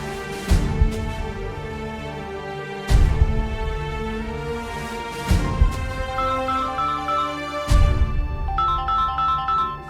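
A mobile phone ringtone plays loud and close, a repeating melodic tune whose phrases restart with a strong accent about every two to three seconds, with no talk over it.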